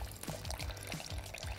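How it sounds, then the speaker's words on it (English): Pineapple juice drained from a can, pouring in a faint, thin trickle with soft, regularly spaced gurgles. "you're gonna drain out all the juice right now"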